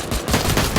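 A grenade launcher fires in the mobile shooter game Free Fire. There is a short, loud, close burst of rapid blasts lasting under a second, with no voices.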